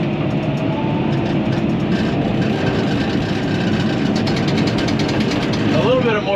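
A bulldozer works steadily as it cuts a road one blade wide down to a small beach, its heavy diesel drone and low rumble continuing unbroken and close throughout.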